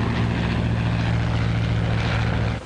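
A 1939-era propeller airplane engine in flight drones loud and steady, with a continuous low hum and broadband roar that stays unbroken until a slight dip at the end.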